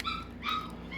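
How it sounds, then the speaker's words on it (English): Newborn puppies whimper and yip in short, high-pitched cries, several overlapping whines close by, with a low background hum underneath. "don't mind the puppies in the background"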